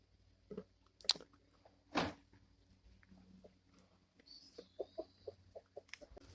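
Chickens cluck softly in a quiet yard, with scattered short clucks and pecking sounds, one sharper squawk, and a brief higher call near the end.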